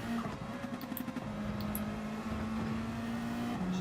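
Race car engine in Gran Turismo at Suzuka, a close, loud sustained drone that holds steady then drops in pitch as the car slows, with tire and road noise underneath.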